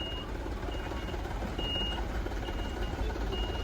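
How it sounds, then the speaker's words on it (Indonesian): A truck reverses at a livestock unloading site, its reversing alarm beeping in repeated short tones over a steady low engine rumble, fairly close and continuous. "Truk ini yang mundur, terus yang satunya maju ini,"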